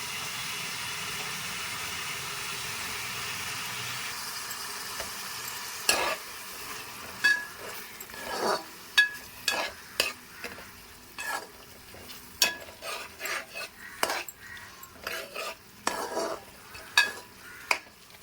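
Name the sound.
tomatoes cooking and being stirred in a pan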